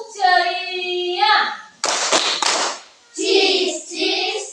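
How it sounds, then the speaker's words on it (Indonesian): Children in a classroom clap through a short cheerful clapping chant, a dense burst of hand claps lasting about a second and a half between stretches of sung and spoken voices. "Hari ini Ibu akan kasih tepuk ceria buat kaliannya"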